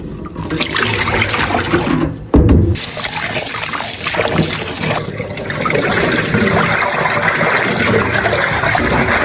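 Callaloo leaves get washed in water: sloshing, splashing and trickling, loud and close, with a brief pause and a sharp splash midway before the swishing continues steadily.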